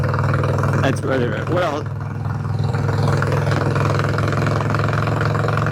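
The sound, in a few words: Harley-Davidson Sportster 1200 motorcycle engine revving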